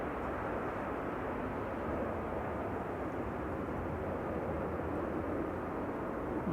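An airliner departing Manchester Airport bound for Florida, a broad continuous jet roar holding steady throughout, loud and unbroken, with no voices.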